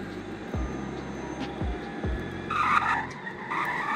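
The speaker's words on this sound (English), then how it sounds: "it'll just like spin out and drift and go crazy like that" A Tesla Roadster spins out and drifts, its tires skidding in several short bursts over a steady engine and road roar, with a louder scrubbing squeal building near the end.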